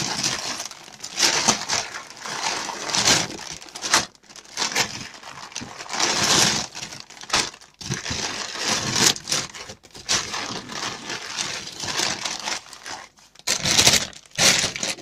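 A plastic packaging bag holding transistors is crinkled, rustled and torn open by hand, with continuous close crackling and brief pauses throughout.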